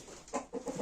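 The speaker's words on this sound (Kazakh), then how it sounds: "менде тауық басатын тауықтар" Brooding hens clucking close by in a short burst, a few low throaty clucks in quick succession with no talk.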